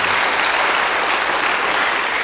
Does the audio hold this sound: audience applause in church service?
yes